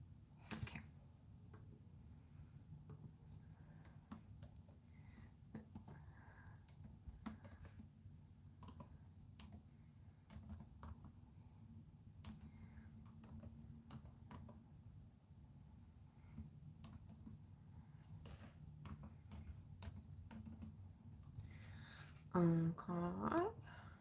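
Faint, scattered clicks of typing on a computer keyboard tap irregularly over quiet low hum, with a brief louder sound near the end.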